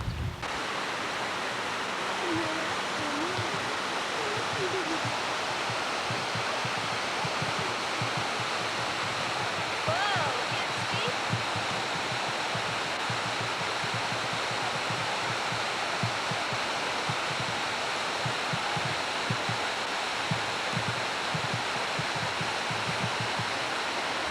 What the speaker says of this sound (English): Falls are really pretty.